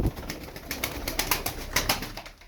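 Turkish tumbler pigeons coo close by in a loft, repeated soft throaty coos in quick rhythmic bursts, fairly loud and without voices.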